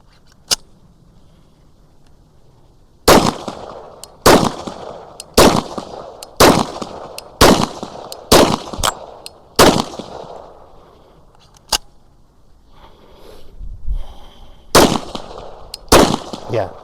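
Pistol shots from a Timberwolf frame handgun with a fullsize rail and compact grip, fired at a range: a single early crack, then a rapid string of about eight loud sharp reports, a lone shot, and two more, with gaps of shuffling between.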